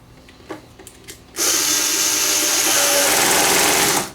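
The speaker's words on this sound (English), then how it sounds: "this little screwdriver is just what I needed" A JoustMax cordless screwdriver, torque set all the way down, whirs into steady motion as it drives screws, a sustained electric motor buzz beginning after a few faint handling clicks and running loud and even for several seconds.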